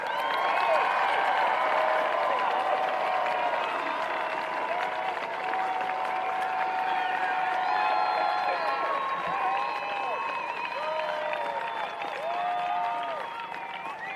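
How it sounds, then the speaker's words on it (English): Broad, continuous applause from a large crowd at a high school graduation ceremony, with cheering and whistles over the steady clapping. "How about another round of applause for all of our graduates?"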